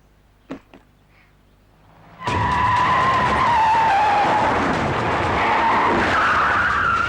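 Several cars pull up fast with tyres squealing, a sudden loud skid and engine roar that holds steady after a couple of faint knocks.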